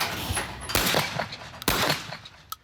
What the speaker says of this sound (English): the shotguns are out. For skeet shooting.